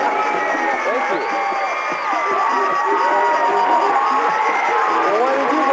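A studio audience at a television dating game show cheers and whoops loudly at a host's entrance, a dense continuous roar of excited voices with scattered shouts throughout.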